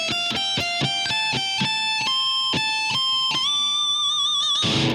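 An electric guitar plays a climbing lick: quick picked notes rise steadily in pitch, ending on a sustained high note with a final scrape, played alone.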